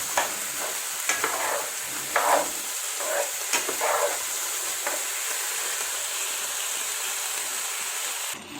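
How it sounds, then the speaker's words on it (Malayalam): Washed rice being stirred in ghee in a pot for beef biriyani: steady close frying hiss with rhythmic scraping stirs in the first half, then an even sizzle alone. "ഇനി ഇതിലേക്ക് കഴുകി വാരി വെച്ചിരിക്കുന്ന അരി ഇട്ട് കൊടുക്കാം. ഇനി ഇതൊന്ന് ഇളക്കി കൊടുക്കാം."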